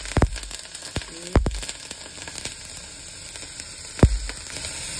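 Food frying in a pan ahead of a lobster dinner, with a steady close hiss of sizzling broken by several sharp clacks and knocks of cookware.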